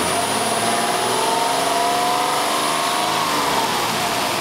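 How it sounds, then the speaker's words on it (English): A Ford car engine with a fuel rail pressure sensor fault (code P0193) revs and holds at a steady high pitch, a loud, continuous mechanical drone with a faint whine on top, close by. "revving the engine up"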